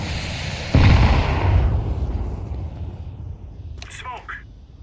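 A grenade bursts with a sudden loud boom in Counter-Strike 2, its rumble fading over a few seconds while a player talks faintly afterward.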